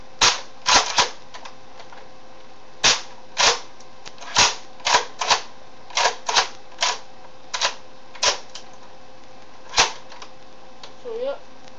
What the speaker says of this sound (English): the good part about it is it's pump action, as you can see